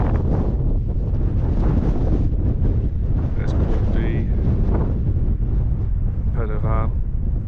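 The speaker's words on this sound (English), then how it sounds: "Still very windy, but the sun's now joined us." Strong wind batters the microphone on the Pen Y Fan mountain ridge, a loud, constant roaring buffet throughout, with a voice briefly audible beneath the gusts.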